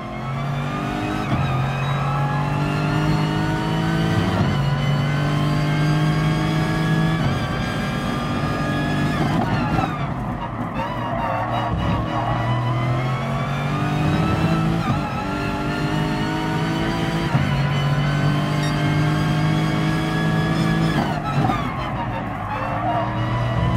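A race car roars through its first lap in the on-board view of the GT Sport video game, with the engine loud and continuous, its pitch climbing and dropping repeatedly through gear changes and braking, and no voice over it.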